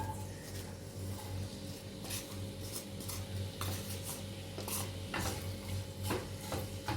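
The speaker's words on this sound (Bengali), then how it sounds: "তেলটা গরম হয়ে এসছে আমি পেঁয়াজটা এর মধ্যে দিয়ে দেব" Onion added to hot oil in a pan on a stove fries with a low sizzle beneath repeated clinks and scrapes of a spatula stirring against the pan, close by and without talking.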